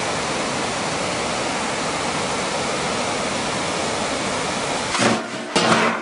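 Water runs in a steady, loud rushing stream from a tap while something is washed off, then breaks into two short splashing interruptions near the end; no voices.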